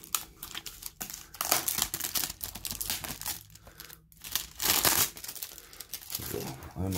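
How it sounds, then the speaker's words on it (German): Plastic shrink wrap crinkles and tears as it is peeled off a Mediabook, with close, loud, irregular crackling bursts that continue for several seconds. "Mal kurz die Folie ab."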